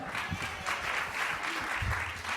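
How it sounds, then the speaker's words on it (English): The audience at a filmmaker panel claps in a short, moderate round of applause, fairly distant and even, with a voice briefly heard over it. "Round of applause."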